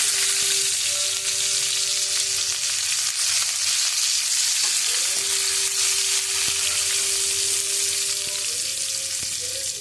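Curry leaves hitting hot oil raise a loud, dense, continuous sizzle that holds steady throughout, with a faint ringing tone and an occasional light knock of a utensil. No one speaks.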